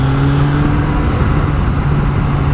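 A 1993 Honda CBR900RR Fireblade with its four-cylinder engine runs smoothly while being ridden, a steady, loud low hum with constant wind rush and no breaks over the short stretch.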